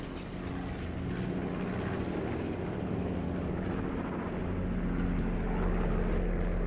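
A helicopter in the Call of Duty Black Ops 4 battle royale game gives a continuous low rotor roar and rumble, dense and steady throughout with no talk over it.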